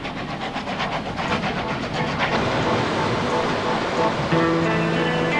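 A Steam Ranger tourist steam locomotive in the Adelaide Hills rolls past with rhythmic chuffing and rail clatter, fairly loud and continuous, ending in a sustained whistle-like tone.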